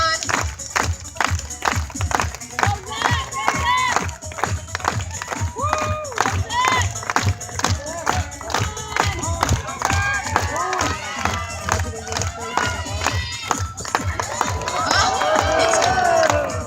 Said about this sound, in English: All right, let's keep cheering them on.